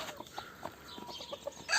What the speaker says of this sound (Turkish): Şurada da bir paçalı köy tavuğumuz var.